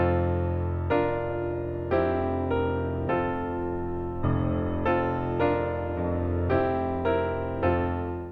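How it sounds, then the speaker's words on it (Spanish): Orchestral theme for Hiccup from How to Train Your Dragon, with bold rhythmic chords struck in a steady repeating pulse, loud and full, with no speech over it. "Tenemos el tema de Hippo que suena así."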